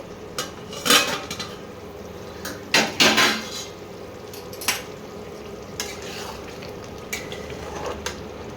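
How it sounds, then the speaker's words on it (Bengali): A mutton curry pot is uncovered with a few clanking metal knocks and scrapes of the lid and pan, set against a faint sizzle and heard up close with no talking. "এবারে মাংসর ঢাকাটা খুলি"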